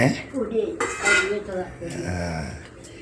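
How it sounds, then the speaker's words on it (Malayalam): Pots, plates and cutlery clatter and clink together at close range during dishwashing at home, in a few uneven bursts with brief gaps between them. "അവിടെ പാത്രം കഴുക പാത്രങ്ങൾ കഴുകുക"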